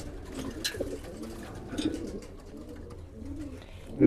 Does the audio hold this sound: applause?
no